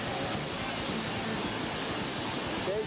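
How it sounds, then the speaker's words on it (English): Whitewater rapids on the New River roar during a rafting trip, with big tail waves churning in a dense, steady rush close by. "Big tail waves down here."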